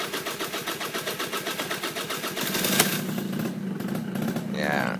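A motorcycle's starter cranks in a rapid, even pulsing rhythm for a couple of seconds, then the engine catches with a burst and settles into a rough, close idle.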